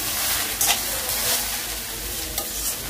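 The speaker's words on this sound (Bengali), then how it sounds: "অনেক নেড়ে নেড়ে ভাজিটা করতে হয়" Vegetable bhaji fries loudly in a pan, a steady close sizzle broken by periodic scraping stirs, with no talking.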